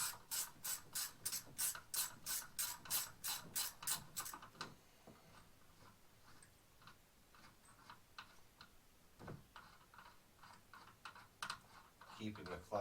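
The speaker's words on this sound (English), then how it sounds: "So what we got to do is we got to back this bolt off first of all." A ratchet backs off a bolt on a 2010 Arctic Cat Crossfire 800HO snowmobile clutch, giving a quick run of about a dozen loud, even clicks, followed by scattered softer ticks and handling clatter of the tool and parts.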